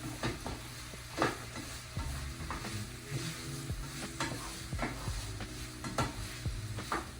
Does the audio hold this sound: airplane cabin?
no